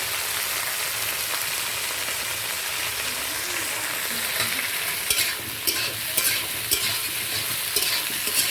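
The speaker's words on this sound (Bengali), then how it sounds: "সবজিগুলো আমরা হালকা একটু ভেজে নেব" Vegetables lightly frying in a pan over a village clay stove, a dense continuous sizzle with a steady hiss, joined by a few sharp stirring clatters in the second half, close and fairly loud, with no one speaking.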